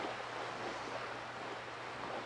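Boat gliding over ocean waves in Animal Crossing, a soft continuous wash of surf and wind noise with a low hum underneath, faint and steady with no talking.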